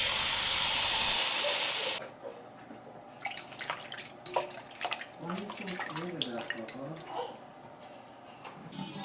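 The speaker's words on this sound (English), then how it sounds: "Now I'm adding some white vinegar and some water, and I'll let the chicken soak for 10 minutes." White vinegar and water poured over raw chicken in a kitchen for soaking: a strong splashing hiss for about two seconds, then scattered drips and small trickles, with a faint voice underneath.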